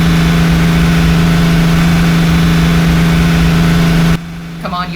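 Spaceship engines in an animated film rumble loudly with a strong steady drone and hum, then cut abruptly to near silence before a faint mechanical whir; a voice speaks over the roar.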